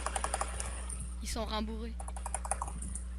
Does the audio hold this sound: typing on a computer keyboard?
yes